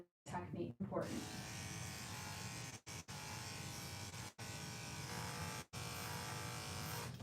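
Electric hair clippers buzz steadily at close range while cutting hair over a comb, a continuous motor drone broken by a few brief pauses as the clipper lifts away.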